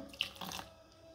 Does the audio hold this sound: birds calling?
no